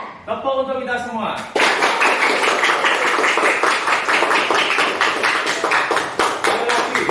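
Group clapping in a steady, rapid rhythm after a brief voice, loud and close; many hands tap together in quick, even beats that sustain throughout, as in a morning cheer routine.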